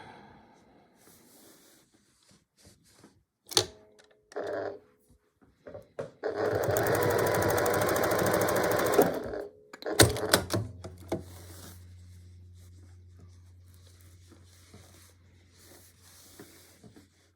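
A sewing machine top stitches a square pot holder, running in one loud continuous burst of about two and a half seconds, framed by scattered clicks and handling knocks and followed by a low steady hum.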